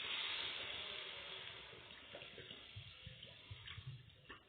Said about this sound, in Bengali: অল্প জল দিয়ে, আলু আছে সেজন্য অল্প জল দিয়ে একটু সেদ্ধ করে নিতে হবে আলুগুলো।